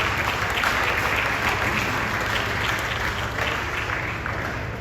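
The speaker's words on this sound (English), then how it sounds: "give yourselves a beautiful round of applause for staying all night" Guests at a regional sports awards evening give a warm round of applause, a thick, continuous wash of clapping from a large crowd in a hall that eases slightly toward the end.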